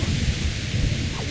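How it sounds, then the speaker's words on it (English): Thunder rumbles in the video game Kingdom Come: Deliverance, a low, continuous roll mixed with a rain-like hiss, steady and fairly loud throughout. "Thunder!"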